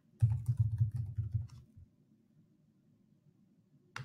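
Quick, close keystrokes clatter on a computer keyboard, a short burst of typing followed by quiet and one final tap.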